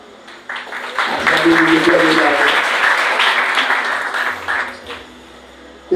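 A church congregation at a Haitian worship service breaks into loud, sustained applause lasting several seconds, with voices mixed into the clapping before it fades.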